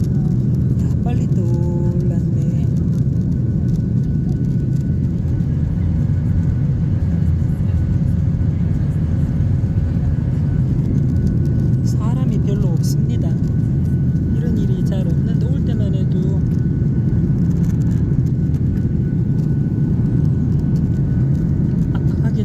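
Steady, loud airplane cabin roar heard from a window seat beside the wing during a roughly five-hour flight, a constant low rumble and hiss throughout with faint background sounds.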